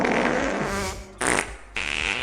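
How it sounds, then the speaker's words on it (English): A long fart-noise sound alert plays on a livestream during a crochet session, breaking into several loud, sputtering bursts with brief gaps between them. "just hit the jackpot of fart noises over here, like the longest one I have in my sound alerts"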